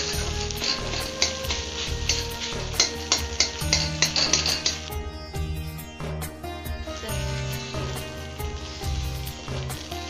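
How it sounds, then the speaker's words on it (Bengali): Egg sizzling and being broken up in a frying pan while cooking egg bhurji curry, a steady fry hiss with light scraping, heard beneath louder background music. "ডিমটা আমি এরকম ভাবে ভেজে আস্তে আস্তে ভেঙে ভেঙে নিচ্ছি।"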